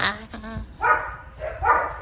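Dogs barking in a rural yard planted with vegetables like malunggay and papaya, a few short sharp barks and yips in quick succession, fairly close.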